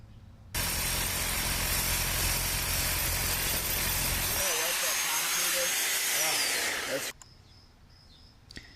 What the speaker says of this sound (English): So go ahead and drill it at least 7 or 8 inches.